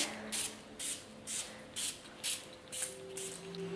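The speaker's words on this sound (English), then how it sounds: "And I'm just going to spray." Quick bursts of a small spray bottle misting oil onto candles, about seven short hisses in a steady rhythm, faint and close, over a quiet low hum.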